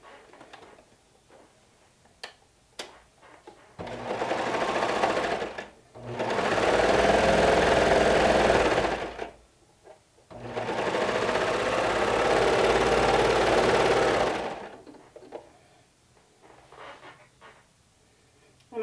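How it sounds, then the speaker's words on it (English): Three separate runs of a sewing machine stitching a half-inch seam on a cozy wrap, each a few seconds of close, rapid whirring, separated by quiet pauses. "I'm going to sew right here with a half an inch seam allowance."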